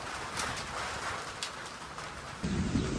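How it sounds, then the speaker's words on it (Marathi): Low rumbling thunder rolls through a rural Maharashtra village during the first monsoon rain, a dull steady roar under the rain's hiss that swells louder near the end. "गरजेचा आवाज ऐका ना"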